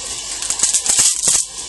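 Dry spaghetti snapped in half by hand in a kitchen, a short cluster of three or four crisp cracks in quick succession, close and fairly loud.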